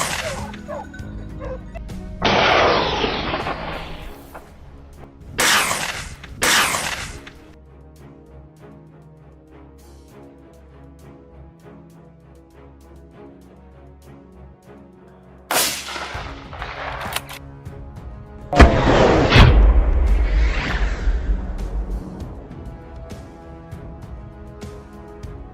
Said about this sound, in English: The gun was loaded, the wild boar was exhausted, and I fired decisively.